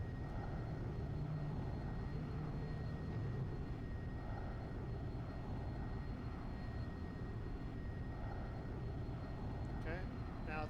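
Propeller airplane engine in the X-Plane flight simulator drones steadily through a takeoff climb near Mostar, a constant loud hum under intermittent talk.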